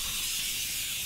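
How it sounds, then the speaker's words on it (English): A steady, loud hiss of a huge rat swarm in the game A Plague Tale: Innocence, a dense continuous scratchy rush with no breaks. "That is a lot of rats."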